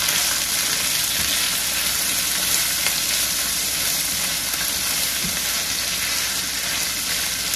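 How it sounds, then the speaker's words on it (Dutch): Bitter melon (sopropo) fries in a pan with a steady, close, hissing sizzle and faint stirring scrapes, with no talking. "Dan moet je lekker gaan bakken."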